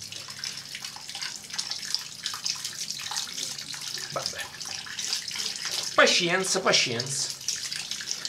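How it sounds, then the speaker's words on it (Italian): Tap water runs steadily from an open faucet, broad and continuous, while a person speaks briefly over it near the end. "Ho aperto l'acqua e ho annacquato l'acqua di vegetazione."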